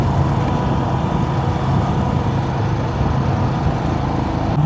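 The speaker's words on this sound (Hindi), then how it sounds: "ये आ चुकी है हमारी हाइलैक्स।" A Toyota Hilux pickup idles at close range on a high mountain route in Nubra Valley, giving a steady low engine rumble that holds evenly throughout with no talking.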